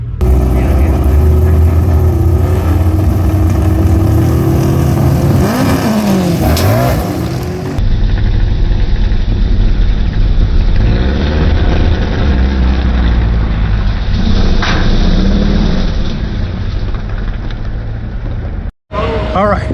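A V8 LT1 Chevrolet S10 roars loudly during a nitrous drag pass, its engine pitch climbing through gears before cutting off abruptly near the end.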